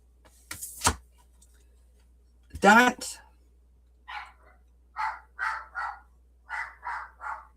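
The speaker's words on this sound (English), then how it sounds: "Sorry, that's my dog." A dog barks nearby in a few sharp bursts, then a run of quick, evenly spaced barks, heard clearly inside a quiet room.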